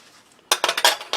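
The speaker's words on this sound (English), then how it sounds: "I'll just wipe the spoon briefly" A metal spoon being wiped and clinking against mess tin cutlery and dishes during a German Einmannpackung Type 2 ration breakfast: a burst of five or six sharp, close metallic clinks after a quiet start, no talking.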